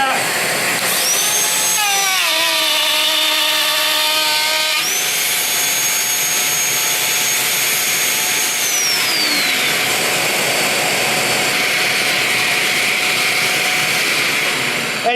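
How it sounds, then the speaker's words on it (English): A dust extraction unit roars steadily during woodworking while a power tool's motor whines up and holds pitch over it, the extractor's broadband rush continuing loud and constant throughout. "the extraction is quite good because it sucked up the rubber matting into the unit"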